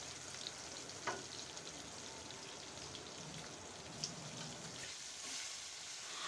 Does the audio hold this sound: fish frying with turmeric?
yes